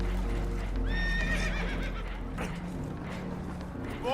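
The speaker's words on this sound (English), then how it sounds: "Horses are spooked" Spooked horses whinnying on a damaged boat in Red Dead Redemption 2, a loud rising neigh followed by shorter snorts and hoof clatter over a low engine-like rumble, with no talk.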